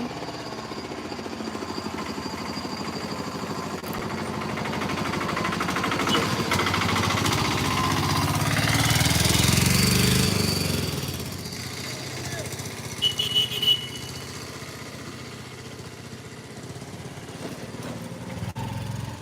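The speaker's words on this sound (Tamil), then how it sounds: "ஒரு வண்டி போகுது" A motor vehicle passes near Kundala Dam, its engine rumble rising steadily, peaking, and then fading over a continuous outdoor background.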